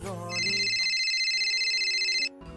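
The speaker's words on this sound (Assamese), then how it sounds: "এদিন মোলৈ অচিনাকি নম্বৰ এটাৰ পৰা ফোন আহিল" A phone ringtone plays: a bright, warbling electronic ring that sounds continuously for about two seconds and then stops, loud and close, with brief voice and music around it.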